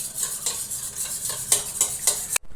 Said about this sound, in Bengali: ডিমটা একটু ফেটিয়ে নেব।